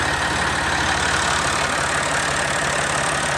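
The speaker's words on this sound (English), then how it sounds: "It's a mechanical tractor, so it will continue to run key on or key off." Massey Ferguson 240 tractor with a mechanical diesel engine idling steadily nearby, a loud, constant rumbling drone with no breaks and no voices.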